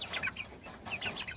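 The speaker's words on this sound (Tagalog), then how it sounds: "Pakita ko naman sa inyo yung ating mga alagang manok dito." Chickens on a small backyard mini farm clucking in short, quick bursts, a few birds close by and fairly soft, with no talking.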